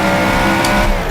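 A classic GT sports car slides on a street track near Napoli, loud engine roar with a short high tire squeal in the middle, close and continuous, no talking.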